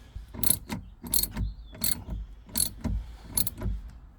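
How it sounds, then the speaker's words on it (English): A hand tool drives a screw into a part while a tow hitch is fitted to a 2020-2026 Toyota Highlander, giving a series of sharp ratcheting clicks in uneven bursts, close and clear, with no talking. "Screw this in."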